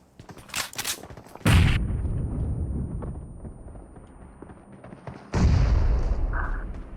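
Gunshots and a grenade blast in a shooter video game: a few sharp shots at the start, then two heavy booming explosions with long rumbling tails, loud and close, no talk.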